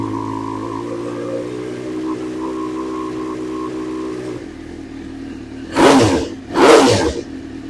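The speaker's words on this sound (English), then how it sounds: "Give it a little rev." A Suzuki GSX-R 600 K1 motorcycle idles with a steady hum, then two quick throttle blips rise and fall sharply, loud and close, while its charging system is checked after a stator swap.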